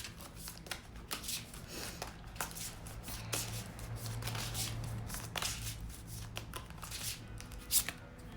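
Oracle cards are shuffled by hand, giving quiet, repeated papery flicks and riffles close to the microphone, with soft irregular taps in between.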